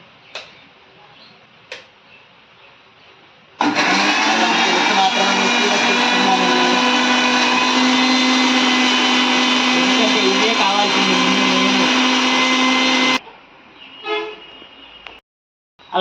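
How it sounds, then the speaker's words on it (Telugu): A mixer grinder whirs loudly as it grinds ginger with spices, one continuous high-pitched run of about ten seconds that starts and stops abruptly, with quiet kitchen sounds before and after. "మిక్సీ పట్టేసుకోవడమే"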